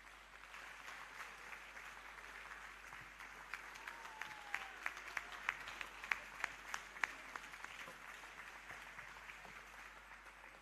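Applause from an audience at an annual general meeting and scientific conference after a talk, a steady moderate patter with a few louder individual claps standing out in the middle.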